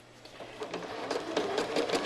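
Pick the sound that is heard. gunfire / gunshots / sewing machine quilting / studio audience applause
sewing machine quilting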